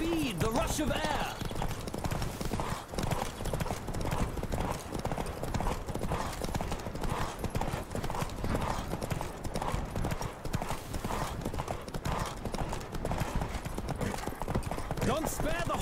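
Horse hooves galloping at a steady rapid clip-clop in The Witcher 3, running continuously under game music and spoken voices throughout.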